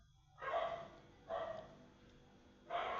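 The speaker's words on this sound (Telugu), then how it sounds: "చూడండి రమ్మని ఎలా మొరుగుతుందో నా మీద" Indoors, a dog barks at its owner three times, each bark a loud, close burst separated by brief pauses, with no other voices.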